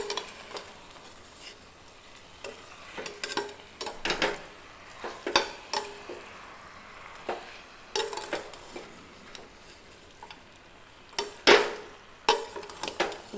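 A spoon stirs duck curry masala in a pan, with a steady run of scraping clicks and metallic taps against the pan over a faint sizzle, and no talking.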